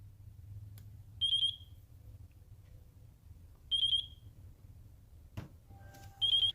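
The beeper on a Mobula 7 tiny whoop drone sounds three short, shrill electronic beeps spaced a few seconds apart, close and clear over a quiet background hum, with a faint click between them.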